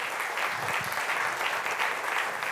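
A church congregation applauds during a sermon, a steady, dense wash of clapping that holds at an even level throughout, with no speech over it.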